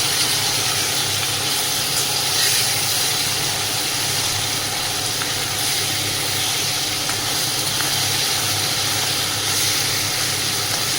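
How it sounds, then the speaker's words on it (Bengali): Steady, dense sizzling of fish frying in hot oil, a continuous hiss with faint crackles throughout. "আলু সেদ্ধ চাপিয়ে দিয়েছে, এদিকে মাছ ভাজা।"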